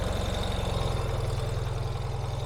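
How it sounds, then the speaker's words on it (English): A 2024 Ural Gear Up motorcycle engine runs close by with a steady, low, throbbing idle and a regular pulsing beat, no starter crank audible and no talk. "it is in neutral, so let's just bump the starter and start it right up"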